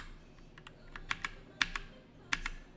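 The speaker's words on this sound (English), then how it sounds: "Now, if you want to just use your keyboard, so I press Command 2." Computer keys pressed in a quiet room: scattered sharp clicks, some single and some in quick pairs, fairly close with soft background between strokes.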